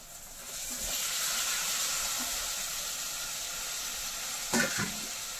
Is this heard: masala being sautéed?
yes